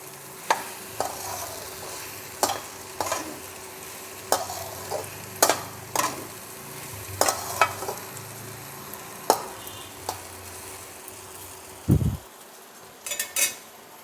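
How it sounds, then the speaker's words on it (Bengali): Sabu (sago) with vegetables and added water being stirred in a pan, with a spoon scraping and knocking against the pan in irregular strokes over a soft steady sizzle, close and fairly loud. "জল দিয়ে এটাকে আমি আবারও নাড়িয়ে নেব।"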